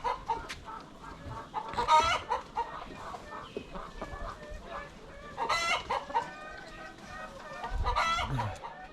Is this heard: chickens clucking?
yes